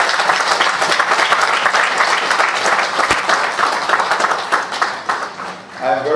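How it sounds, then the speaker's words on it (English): Loud, sustained applause from a large audience at a Salvation Army Christmas kettle launch in Guyana, dense clapping filling the whole stretch and easing slightly near the end. "a resounding round of applause to the Salvation Army"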